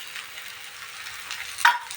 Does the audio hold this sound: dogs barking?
no